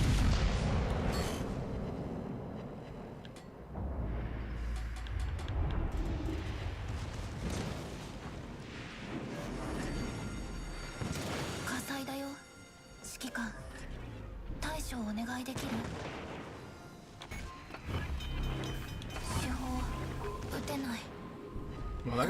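Secondary battery guns on a warship in World of Warships Legends firing in repeated booming salvos, mixed with explosions and battle noise under frequent talking.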